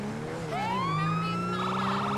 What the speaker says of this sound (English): And we have the default siren.